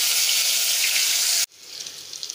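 Curry leaves, two bay leaves and ginger-garlic paste hit hot oil with a loud, bright sizzle that cuts off abruptly, then crackles back more quietly with scattered pops.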